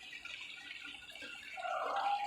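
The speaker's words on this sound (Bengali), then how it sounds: "তো এবার একটু জলটা অ্যাড করে দিলাম" Water poured into a cooking pot, a short soft trickling and splashing stream that swells slightly toward the end, close and fairly quiet.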